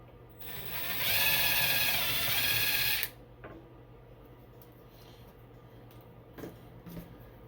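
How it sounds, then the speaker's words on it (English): A drill bores small pilot holes for screws into wood, one steady whirring burst of about two and a half seconds, followed by quiet and a few faint clicks. "I'm going to drill little holes, pilot holes to start my screws."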